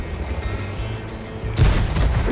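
Tank cannon firing in World of Tanks, a single loud booming blast near the end of the clip after a low engine rumble, heard alone without talking.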